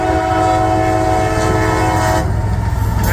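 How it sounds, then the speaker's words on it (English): A long mixed freight train with more than 700 axles rumbles past at night, close and loud, its horn sounding a sustained blare over the steady rolling of the wheels. "This is a big train coming in."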